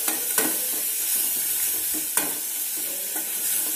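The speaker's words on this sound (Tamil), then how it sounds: "இந்த சின்ன சின்ன பீஸாக வந்து வடிச்சட்டியில் போட்டு நல்லா வணக்கி விட்டுக்கலாம்" Small pieces of natural mushroom sauté in a pan with a steady hiss and sizzle. A couple of sharp clanks from stirring stand out over the frying, with no talking.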